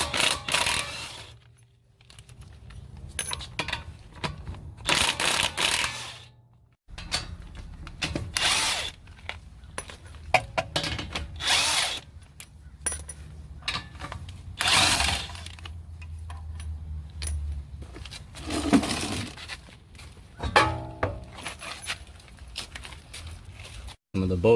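Power tool, likely an impact wrench, removing wheel lug nuts on a Toyota Tundra 5.7: loud, close bursts of whirring and rattling repeat in short spurts with pauses between, and someone speaks briefly.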